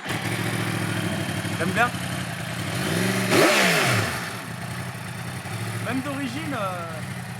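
A Yamaha YZF-R1 sport bike engine fires up and revs loudly at close range in a brief surge, then settles back toward idle, with people talking over it before and after.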